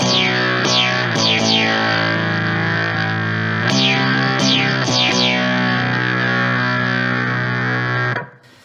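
A bass synth sweeps through a Digitech Bass Synth Wah pedal, clean and undistorted, with repeated falling swoops over sustained tones before cutting off abruptly.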